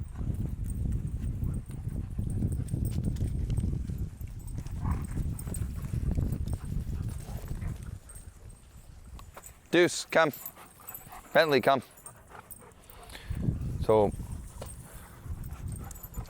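Dogs at a puppy social play one-on-one, with scuffling, panting and paw movement, a few sharp yips and whimpers in the middle, and a man calling the dogs by name.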